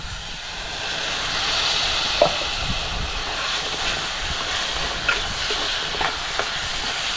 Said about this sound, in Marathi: व्यवस्थित आपल्याला हे परतवून घ्यायचंय आणि वाटण आपल्याला चांगलं असं फ्राय करून घ्यायचंय